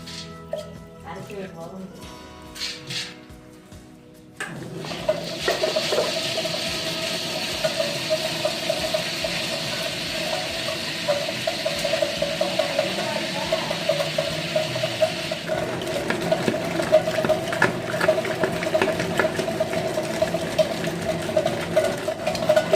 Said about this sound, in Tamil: இப்போ கிரைண்டரில் உளுத்தம்பருப்பு போட்டு அரைச்சிக்கலாம்